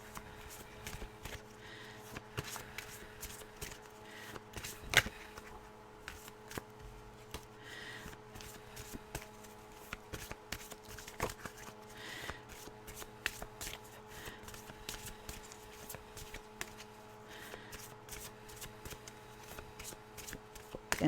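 Tarot cards shuffled by hand in a quiet room, a soft, steady riffling and slapping of cards repeating over and over, faint and close with no talking.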